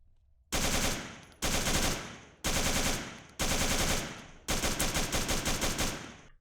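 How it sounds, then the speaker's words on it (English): AK-47 fire in the ArmA 3 Unsung Vietnam mod video game comes as five loud, close bursts, each sharp onset decaying quickly, with a rapid rattling burst at the end. "Alright, that is the AK-47s."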